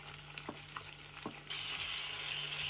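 Beef keema frying in a pan with onion and garlic: a few soft stir scrapes at first, then a loud, steady hiss of sizzling fat that holds from midway to the end.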